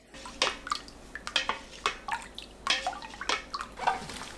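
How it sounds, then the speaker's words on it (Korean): Seasoning water for summer dongchimi, a Korean radish water kimchi, is poured into a container, giving soft irregular splashes and trickles of liquid that rise and fall through the few seconds. "양념물을 부어줍니다."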